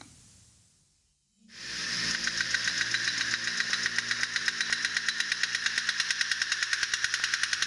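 A seismic source fires a rapid, steady train of sharp impacts inside a rock tunnel, starting after a quiet second and continuing loud and evenly spaced, with a harsh metallic ring over a low rumble.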